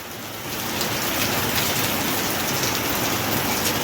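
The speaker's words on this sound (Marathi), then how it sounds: "वारं बी सुटलं वाले बाबो लय पाऊस येतोय" Heavy rain driven by wind pours down steadily, a dense, loud, continuous hiss of drops that swells in the first half-second and then holds without a break.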